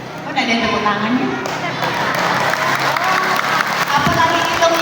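Audience applause and clapping from a crowd at an outdoor campaign rally in Kubu district, a steady dense wash of hands running throughout, with a voice talking over it.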